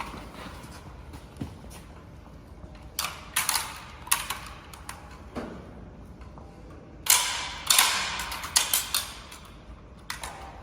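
Military rifle mechanism being handled and worked during recruit weapon drill indoors, giving a run of sharp metallic clicks, clacks and ratcheting snaps in bursts, with quieter handling noise between them.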